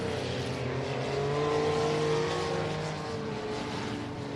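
Several race cars roar together in a pack on a small kidney bean shaped track during a Scrappers race, engines droning steadily and loudly with overlapping pitches rising and falling as they run down the front straightaway.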